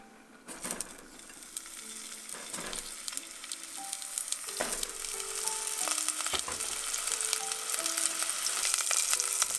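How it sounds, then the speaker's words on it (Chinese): Leeks fry in oil in a small pot, a crackling sizzle that grows louder and denser over time, with scattered pops and a few light clinks from the pot. "将大葱煎至金黄上色"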